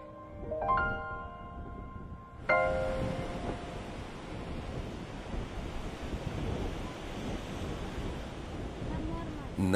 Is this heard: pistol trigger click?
no